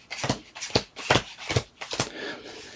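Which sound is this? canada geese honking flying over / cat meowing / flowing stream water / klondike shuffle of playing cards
klondike shuffle of playing cards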